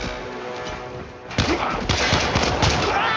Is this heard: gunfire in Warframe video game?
yes